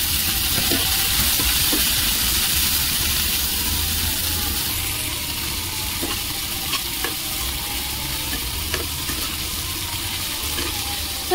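Chopped onion and tomato fry in a pan, giving a loud, continuous sizzle with scraping stirring strokes and light crackles throughout.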